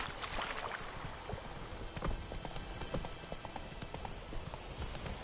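Roach the horse gallops through The Witcher 3 game, with rapid rhythmic hoofbeats thudding steadily over a busy background ambience throughout.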